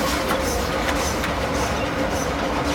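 A tourist train rumbles past close by, a loud continuous roar of wheels and cars with faint rhythmic clatter, steady throughout.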